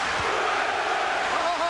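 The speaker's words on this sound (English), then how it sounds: "The applause is building." A boxing arena crowd at a heavyweight title fight cheers and applauds in a dense, continuous roar, brief and loud.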